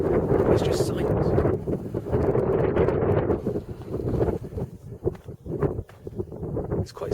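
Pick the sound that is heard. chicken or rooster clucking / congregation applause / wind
wind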